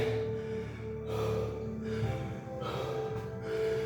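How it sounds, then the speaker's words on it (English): Heavy, labored breathing after physical training, a few deep swelling breaths rising over a steady low hum, close and moderately loud. "I'm out of breath"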